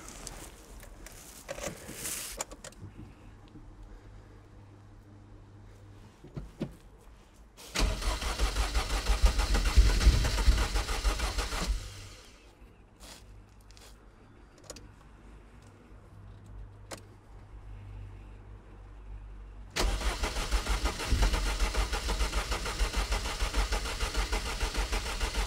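An MG TF engine with suspected faulty ignition coils cranks without firing in two long bursts of whirring starter motor, separated by quiet stretches broken by a few sharp clicks and a key jangle.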